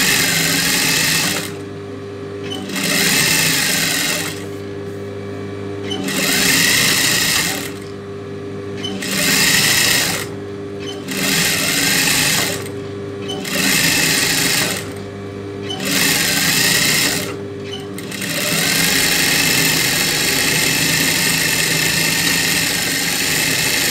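A sewing machine stitching a folded-double nightie front panel runs in repeated loud, close bursts of rapid whirring with short pauses between them, then keeps going steadily toward the end.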